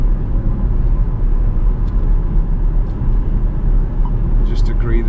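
A Jaguar XF 5.0 V8 S saloon driving in race mode, its engine giving a steady, loud, deep rumble heard from inside the car for the whole stretch.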